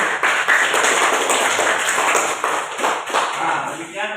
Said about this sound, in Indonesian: Tepuk tangan dulu untuk kelompok satu.